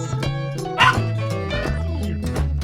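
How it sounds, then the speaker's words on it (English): A farm dog gives a short yip-like bark or two against a steady musical background, loud and close, with no talk. "On the farm, there lives a dog"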